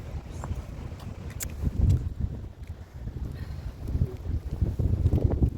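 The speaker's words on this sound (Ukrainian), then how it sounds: "Такий вітер крижаний." Gusty icy wind on a waterfront embankment rumbling across the microphone in uneven surges, with faint scattered knocks and soft background noise and no one speaking.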